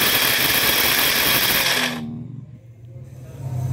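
An electric beater whirs steadily and loudly while mixing a no-bake Milo cheesecake, then cuts off abruptly partway through, leaving quiet room noise.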